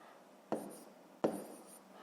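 Hand-written numbers going down on paper during a fifth-grade long division exercise: two brief pen strokes, each a short scratchy burst that fades quickly, heard close and faint against a quiet room.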